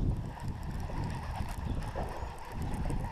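Gusty wind of about 50 mph at Lake Norman buffets the microphone in a low, continuous rumble, with faint background noise and no voices.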